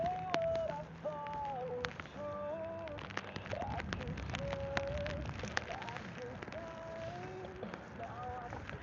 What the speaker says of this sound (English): So a bit of rain is fine.